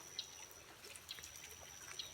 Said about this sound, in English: There's the waterfall, but see, it's barely trickling over there.